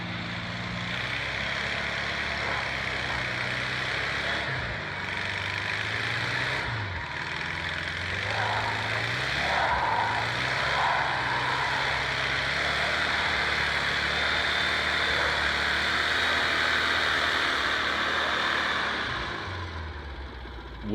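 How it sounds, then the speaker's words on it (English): A Volkswagen split-window VW Bus Deluxe spins its right rear tire in a burnout on a slick, packed-snow frozen ramp, then crawls up to the top; a steady, loud engine drone and tire whine run throughout with no talking. "once I did my burnout, I was able to crawl right up the top of the dock"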